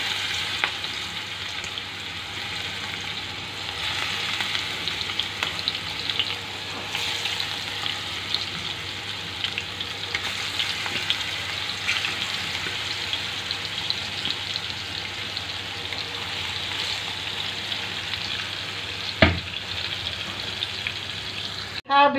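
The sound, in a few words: fish frying in hot oil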